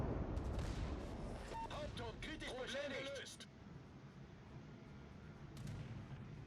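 Torpedoes launch in a naval combat video game, heavy booming blasts and a dense rumble filling the first seconds before fading into a steady low wash of engine and sea noise.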